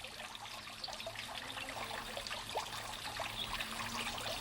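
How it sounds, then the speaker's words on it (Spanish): Water trickles steadily from a stone fountain in the cloister of the Romanesque monastery of Bujedo, a soft continuous murmur with faint splashes, heard alone at low level. "El susurro que produce el agua"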